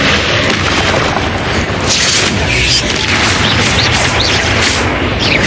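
Confringo blasting-spell explosions in Hogwarts Legacy, a loud continuous barrage of booming blasts and crackling impacts over dense game noise, with shouted spell incantations mixed in.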